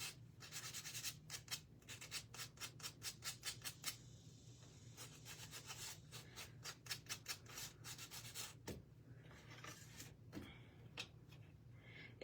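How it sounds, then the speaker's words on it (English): Light hand sanding in quick rhythmic back-and-forth strokes, close by and fairly quiet, with brief pauses between runs of strokes. "It's not a ton of sanding, but I do think it helps."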